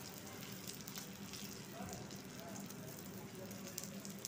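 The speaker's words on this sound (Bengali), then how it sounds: "আমি শ্যালো ফ্রাই করছি তেলের উপর দিয়ে আমি সেকে নেব" Stuffed green chilies shallow frying in a pan of oil, giving a steady close sizzle and crackle under a low background hum, without any talk.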